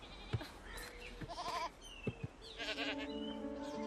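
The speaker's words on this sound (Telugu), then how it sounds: "అమ్మయ్యా గొర్రెల్ని గుద్దా." Sheep struck by a car on a road, bleating in a few wavering, overlapping cries with a couple of short dull knocks between them, fairly close and without talk.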